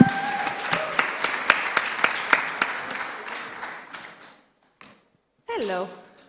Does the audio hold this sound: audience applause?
yes